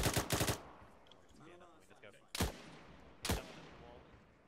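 Gunfire in a shooter video game comes as short, loud bursts of rapid shots, first a quick cluster, then two single sharp cracks spaced about a second apart, with faint game sounds between.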